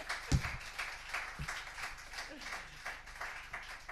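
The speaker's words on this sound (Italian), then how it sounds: "un doppio applauso, avanti, forza" A church congregation applauds during a communion service, the clapping soft and somewhat distant, a continuous patter with a couple of sharper, louder claps near the start.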